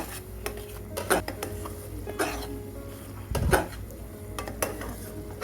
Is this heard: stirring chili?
yes